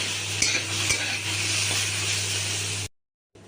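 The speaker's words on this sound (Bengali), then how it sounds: "আলুটা সেদ্ধ বসিয়ে দিয়েছি আর যে শিম, একদিকে আলু সেদ্ধ হচ্ছে আর একদিকে শিমটা ভাজা হচ্ছে" Green beans frying in a pan, a steady quiet sizzle with a couple of utensil clinks against the pan before it cuts out briefly.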